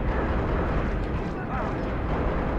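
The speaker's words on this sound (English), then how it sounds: "Why are you chucking grenades?" Grenade explosions in the video game Halo Reach make a dense, continuous roar of blasts that fills the whole clip loudly, with no gaps between them.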